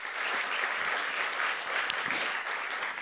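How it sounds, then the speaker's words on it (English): An audience at a library speaker event claps in sustained, dense applause, steady from start to finish at a fairly even level, with no speech over it. "give a round of applause to Rita Mia"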